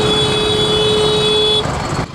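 A car horn honks steadily for about a second and a half in chaotic New Delhi traffic, loud and close against a constant roar of surrounding road noise, then cuts off.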